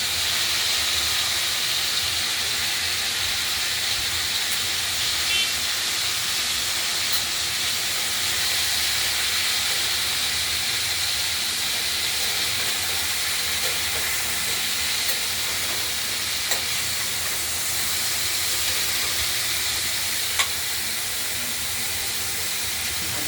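Potatoes and cauliflower frying in hot salted oil give off a steady, loud, unbroken hiss that runs the whole time with no voices.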